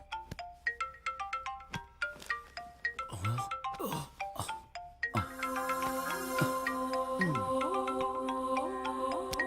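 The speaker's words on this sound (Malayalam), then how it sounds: "ഫോൺ അടിക്കുന്നു." A phone ringtone plays alone: repeated bright chiming notes and a short melodic run, then a fuller looping ring tune that continues steadily.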